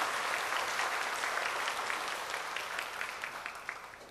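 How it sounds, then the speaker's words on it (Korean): Audience applause welcoming a pastor at a talk by a local suicide prevention council head: dense, steady clapping from a sizeable crowd that holds fairly even, then slowly thins and softens toward the end. "박수로 우리 환영해 주시죠"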